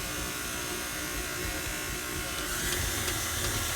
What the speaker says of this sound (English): we're going to start mixing it on a slow speed until it starts forming a dough, and you'll hear the motor start to get bogged down